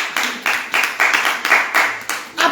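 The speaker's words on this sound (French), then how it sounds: "Applaudissez pour les bienfaiteurs et bienfaitrices." Steady, evenly spaced claps at about two per second, near and clear, like a group clapping in time.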